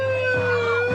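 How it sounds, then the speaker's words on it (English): Police siren blasted through a megaphone at a protest, a loud steady electronic wail with a slight rise and fall, close and harsh, sounding alone. "You had the megaphone and you were following around a cop and just blasting a police siren in his ear."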